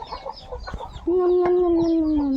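A chicken clucks softly at first, then lets out a loud, drawn-out squawk close by.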